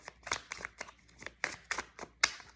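Tarot cards being shuffled by hand, a series of crisp, papery riffling flicks in a quick, slightly uneven rhythm, close and soft with no talking.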